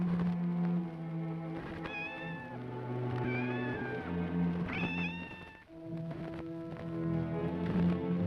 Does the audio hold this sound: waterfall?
no